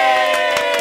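Short burst of loud cheering and yelling from a crowd during a harpsichord demonstration event, a dense wall of voices with no clear claps, close and steady throughout.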